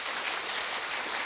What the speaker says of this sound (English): Let's give the whole of the shortlist a big round of applause.